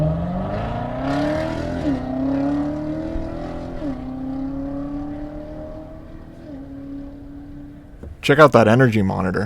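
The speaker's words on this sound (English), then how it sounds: "I just thought you might want to hear the Z06." A Corvette Z06 engine on a race track, a rising and falling engine drone heard through a series of gear changes, with a voice talking over it and a loud rush of noise at the end.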